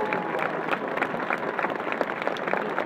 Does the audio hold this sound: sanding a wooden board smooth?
no